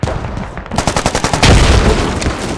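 In the Squad video game, a grenade blast and gunfire sound in a tournament match. A quick run of close gunshots rattles out, then a heavy, loud explosion rumbles and lingers.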